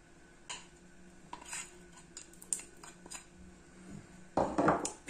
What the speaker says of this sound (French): Bien mélanger pour que le miel soit bien imprégné avec les cacahuètes et les graines de sésame.